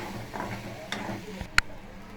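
Masala with turmeric powder, chili powder and garam masala being sautéed in a pan, giving a faint, steady frying hiss broken by a few scrapes of the spoon and one sharp clink near the end.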